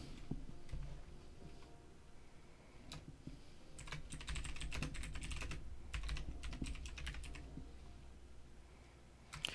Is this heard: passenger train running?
no